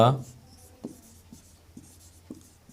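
A pen scratches out a note in soft, faint strokes with a few light taps, heard close up after a brief voice at the start, during a math lesson on linear equations.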